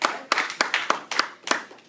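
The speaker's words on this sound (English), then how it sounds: "So let's give a round of applause for yourself." A run of sharp hand claps from an audience in a Seventh-day Adventist church, in a steady rhythm, about seven in two seconds, close and clear with no talking.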